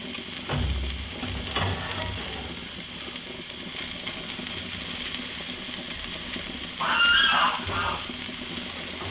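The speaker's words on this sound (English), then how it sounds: "We're going to throw on some hash browns." Hash browns fry on a hot griddle with a steady, loud sizzle throughout, a brief scraping stir near the start and a louder hissing burst late on.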